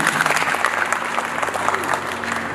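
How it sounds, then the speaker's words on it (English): A congregation at a church service in Washington, D.C. claps in a dense, steady burst of applause, with voices faintly mixed in. "Clap for her now."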